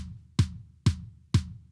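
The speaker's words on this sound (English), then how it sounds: "That's a kick drum sound" Three evenly spaced kick drum hits from a Roland TM-2 trigger module, each a punchy low thump with a bright click on the attack and a short decay, plus the tail of one before, played alone at moderate volume.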